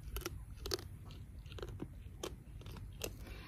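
Pigs chew fallen pecans nearby in a quiet outdoor pen, sharp crunches and cracks arriving in irregular bursts over low background hush.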